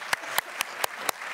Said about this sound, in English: How about a round of applause for Caroline?